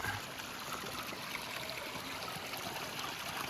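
Water flowing out of a culvert and down a steep ravine at an off-grid homestead, a steady, fairly faint trickling stream with an even hiss and no voices.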